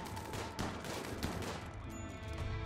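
Colonists firing guns in the Rimworld video game, a dense, continuous burst of overlapping game gunshots that stays loud and steady throughout, with no talking.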